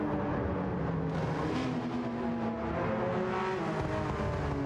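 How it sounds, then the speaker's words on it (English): A Porsche race car in the video game Gran Turismo 7, a continuous engine drone with shifting revs held at a moderate level throughout, with no talking. "He is driving the Porsche."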